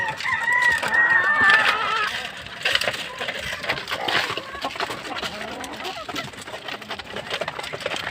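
A rooster crows loudly at the start while hungry chickens cluck and scratch nearby at feeding time, their busy clucking continuing throughout.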